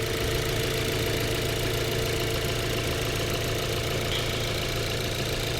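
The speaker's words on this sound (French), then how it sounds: "Donc voici le moteur thermique." An Audi A3 Sportback e-tron's 1.4 litre TFSI petrol engine idles in a steady, even drone with a dense low rumble and hiss throughout, close and continuous, with no talking.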